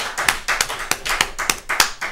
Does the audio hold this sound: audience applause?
yes